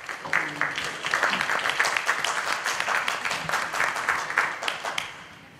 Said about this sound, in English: I think we need to start off with you guys getting yourselves a round of applause for coming